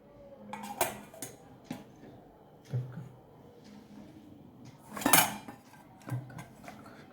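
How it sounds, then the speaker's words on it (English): Sieving dry ingredients for a chocolate mousse cake: a metal sieve clinks and taps against a bowl in several sharp knocks, with one louder rattling burst near the middle, all without talk. "We will sieve one more time."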